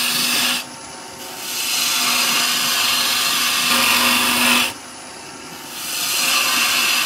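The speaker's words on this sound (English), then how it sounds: "So just a nice little shearing cut with a bowl gouge." A bowl gouge making a shearing cut on wood on a lathe during thread chasing and hole boring work: a loud hissing, whirring cut that drops away briefly twice, with a steady motor hum underneath and no talk.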